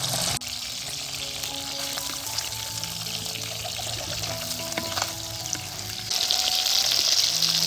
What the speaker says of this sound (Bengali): মাছগুলোকে আমি একটু হালকা করে ভেজে নিব